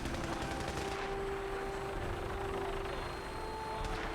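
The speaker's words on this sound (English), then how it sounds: "they're just shooting at nothing really" Sustained gunfire in Fallout 4, a dense continuous rattle of shots mixed with a steady engine drone from a vertibird, loud and unbroken throughout, no talk.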